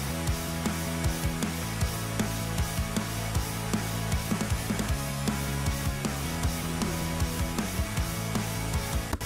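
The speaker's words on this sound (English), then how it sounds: "This is what the beat sounds like. It's an alternate rock beat." Alternative rock beat with guitar, a dense, loud mix of steady rhythmic drum hits and sustained guitar tones playing continuously without any voices.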